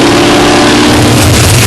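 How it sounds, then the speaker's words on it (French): A GMC four-wheel-drive drag car with an 800-horsepower V6 turbo engine revs hard at a European drag race event, a loud, close, saturated roar building over under two seconds. "Son moteur, un V6 turbo dont la puissance dépasse les 800 chevaux"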